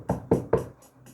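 Three firm knocks on a door come in a steady rhythm, followed by two much fainter taps, all close and alone over a brief stretch.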